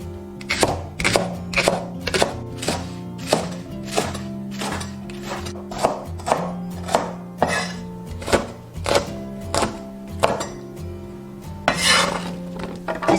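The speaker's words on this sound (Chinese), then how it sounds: "把所有食材切成小块" A knife chops coriander, onion, scallion, chili and ginger into small pieces on a cutting board, the sharp thunks landing in a steady rhythm, close and loud, over soft background music.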